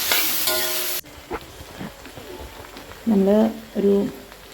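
Sliced onion and green chillies drop into hot oil with a burst of sizzling, followed by softer frying and brief clatters of a stirring spoon; a voice speaks over it in places.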